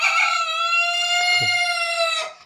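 A backyard rooster crows once, a long, loud, sustained call close by that fades out at the end, with no voices over it.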